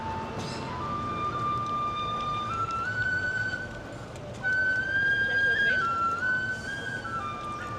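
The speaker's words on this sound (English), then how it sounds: "There's a tin whistle playing." A tin whistle plays a slow, wavering melody of long held notes, heard at a distance over steady outdoor background noise in Cork City.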